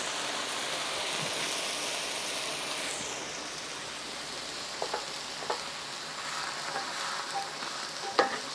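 Chow mein sauce with dissolved bouillon being stirred and scraped across the bottom of a pan over lowered heat: a soft steady sizzle and bubbling, broken by a few sharp scraping clicks toward the end.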